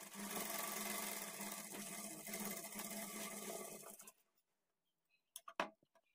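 A sewing machine runs steadily as it stitches a blouse, loud and close for about four seconds. It then stops, followed by silence and a few sharp clicks and taps.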